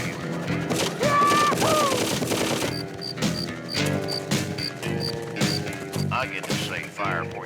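Rapid bursts of gunfire in the Full Throttle adventure game, loud repeated shots and clattering impacts in clusters, with a voice speaking around them.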